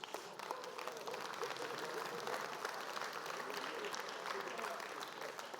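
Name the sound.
audience applause at a union congress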